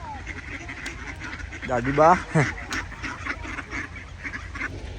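Ducks being fed outdoors on a snowy winter day in the Czech Republic give a few loud, nasal quacks in a short burst, mixed with people talking nearby.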